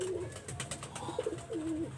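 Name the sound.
pair of golden pigeons cooing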